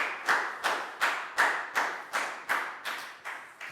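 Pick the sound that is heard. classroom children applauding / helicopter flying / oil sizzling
classroom children applauding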